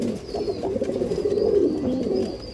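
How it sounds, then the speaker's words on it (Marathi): Pigeons cooing in a loft, with low rolling coos repeating steadily and overlapping through a moderately loud, busy background. "सुपर क्वालिटीचं आहेत कबूतर, आंध्राला दिलेत"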